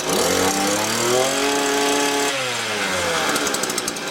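Hyundai HYMT5200X petrol multi-tool engine running after a cold start, a loud, close two-stroke drone that revs high, then drops and settles toward a lower idle.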